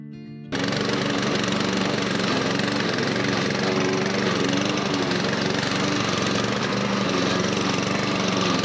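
A lawn mower engine roars steadily and close on a farm, kicking in abruptly after a brief quieter moment and then holding a constant loud, buzzing drone throughout.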